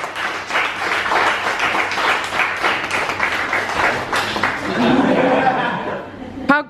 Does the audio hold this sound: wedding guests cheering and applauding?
yes